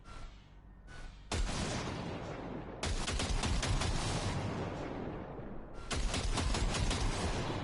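Automatic gunfire from a weapon being calibrated in a PS4 shooter game, in several loud, rapid bursts separated by short gaps, with the later bursts stretching into long sustained volleys, and no talking.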